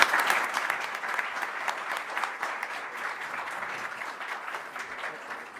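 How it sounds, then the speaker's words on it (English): A conference audience in Davos breaks into steady, dense applause that holds evenly throughout, a continuous wash of many hands clapping at moderate distance. "A round of applause."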